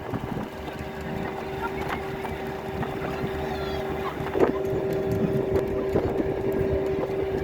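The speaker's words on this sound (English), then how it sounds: "That feels like a lot of wind." Strong wind roars over the microphone while riding a boat across a lake among high peaks, a dense steady rush with a motor droning underneath and a few brief bumps.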